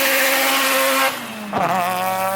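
A rotary Mazda RX-7 accelerates hard in second gear with wheelspin: a loud, high-revving engine wail with tire squeal, dipping briefly and then climbing again, close by.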